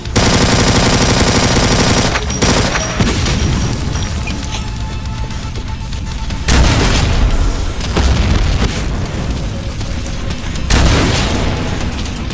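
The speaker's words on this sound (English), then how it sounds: "Oh, rockets." Rocket explosions and rapid gunfire in the video game Doom, a dense, loud, continuous barrage of booms and automatic fire with heavier blasts near the start and at about six and ten seconds.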